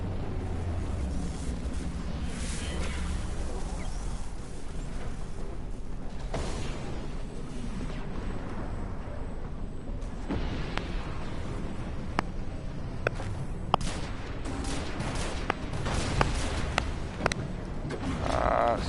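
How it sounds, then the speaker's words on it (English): Heavy artillery barrage in Destiny, a dense, continuous rumble of deep booms and blasts with scattered sharp impacts and crackling, sustained loud throughout with no clear talk over it. "They are going to drop some heavy artillery on us here."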